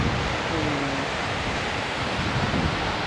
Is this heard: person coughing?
no